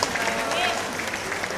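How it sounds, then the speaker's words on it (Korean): A church congregation claps during a Sunday morning service, a brief, fairly faint patter of scattered applause heard from a distance within the room. "박수하겠습니다."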